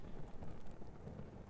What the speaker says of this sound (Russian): А за окном все так же льет дождик.